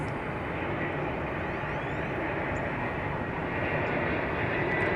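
Airbus A319 airliner arriving at DFW Airport, a steady broadband engine roar that holds loud and continuous throughout, with a faint high whine above it and no voices.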